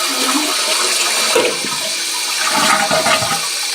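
A household toilet being flushed again during a repair roars with rushing, gurgling water, loud and close throughout.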